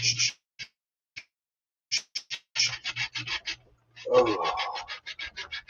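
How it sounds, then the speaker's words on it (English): A saw blade cuts parts for a Bruder crane truck conversion in repeated rasping bursts of scratchy strokes, close and fairly loud, with pauses between passes and one louder, lower grinding stretch near the end. "This whole video is going to sound like a saw blade going the whole time."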